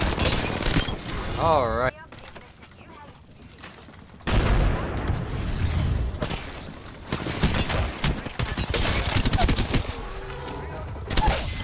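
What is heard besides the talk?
R9 gunfire in the video game Apex Legends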